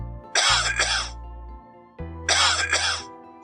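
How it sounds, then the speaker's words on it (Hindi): Two harsh coughing fits from an animated character in a Hindi cartoon story, each a pair of rough throaty bursts with a voiced tail, loud and close, separated by a short pause. "फिर अगले दिन राजन को भी खांसी होना शुरू हो गई।"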